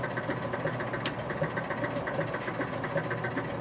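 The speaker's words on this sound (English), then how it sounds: "Score motor still running" A Spirit of 76 pinball machine's score motor keeps running with a steady, faint mechanical hum and light rhythmic ticking, with a single sharper click partway through.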